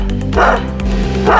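A Cane Corso or Doberman lets out a few deep, powerful barks in quick succession, loud and close, with no voices around them.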